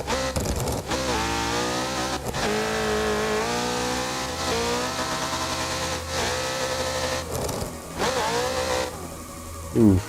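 Loud car engine in a drifting video game around Chinatown, revving steadily and continuously close up, with pitch rising and falling as the car accelerates, a brief drop near the end.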